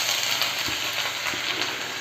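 Chopped onions fry in hot oil in a pan, a steady, bright sizzle with a few soft stirring scrapes underneath, close and continuous, no voices.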